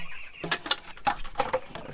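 Chickens in a fowl coop on a small Jamaican poultry farm cluck in a few short, close bursts spread across two seconds, with quiet gaps between calls.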